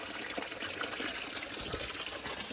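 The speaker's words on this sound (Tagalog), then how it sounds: "yung tubig namin dito guys, ganyan siya, running water siya." Free running water at a mountain family house pours in a steady, dense gush, close and continuous with no voices over it.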